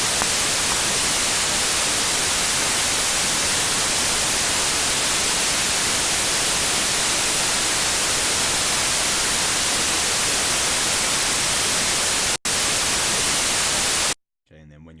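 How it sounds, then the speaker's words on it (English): Steady, loud hiss of white noise filling the whole range, continuing for many seconds, briefly cutting out before stopping abruptly near the end. "We're going to record around 4 or 5 bars of the white noise here"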